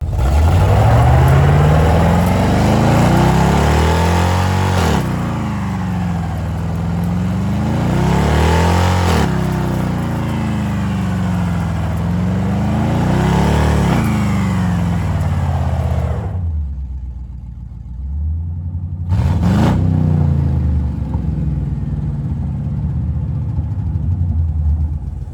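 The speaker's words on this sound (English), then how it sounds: "I'm going to give you a little burnout video from a previous video where it was just spinning the one tire when it was running on 7 cylinders" Car burnout with the engine misfiring on seven of its cylinders and a single tire spinning, loud and close, surging and falling in repeated revs before a brief drop and a final roar.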